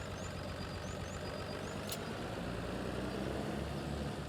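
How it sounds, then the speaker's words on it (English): Tractor and trailer reversing in a farming simulator game, a steady low engine drone with continuous broadband rumble and a brief high click midway, moderately loud throughout. "Let's reverse the tractor and the trailer a bit."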